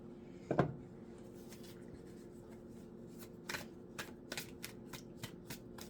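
A deck of oracle cards is shuffled nearby: one louder riffle early on, then a run of quick, soft card flicks and slides in a quiet room, with no talking.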